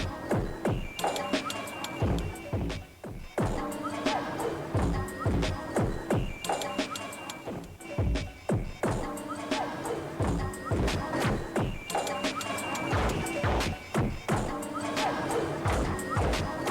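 A Noise Commander 3DS synthesizer plays a distorted, crunchy pattern of repeated hits and smashes in a driving rhythm, loud and up front throughout.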